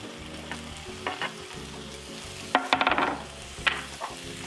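Pre-cooked sausage cut into wheels sizzles in a frying pan alongside onions: a constant crackling fry with several louder bursts of spitting and stirring, no voices.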